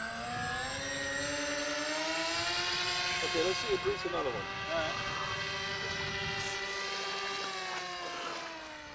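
A scratch-built model Dornier Wal flying boat drones past with a steady whining engine tone that rises and falls gently, heard at moderate distance under nearby talk.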